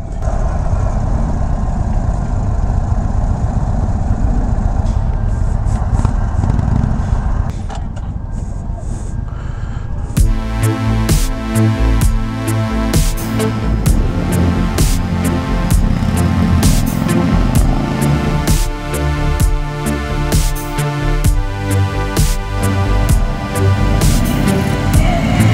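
Indian Sport Chief motorcycle engine while riding on Texas roads, a steady loud rumble throughout, with a harmonic engine drone that rises and strengthens partway through.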